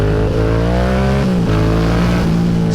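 A Yamaha R7 motorcycle accelerates hard in second gear while popping a small wheelie, its engine a loud, close, steadily rising roar with a brief dip as the revs shift.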